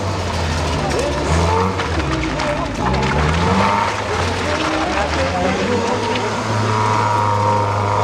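A rally school car circles around cones, its engine revving and dropping in repeated surges close by, while someone speaks over it throughout.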